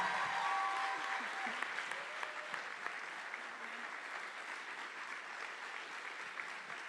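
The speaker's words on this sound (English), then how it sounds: "Can I just get one more huge round of applause for my sister real quick?" Audience applause at a live music and poetry event, a steady dense clapping that stays loud for the whole stretch and eases slightly toward the end, with no talk over it.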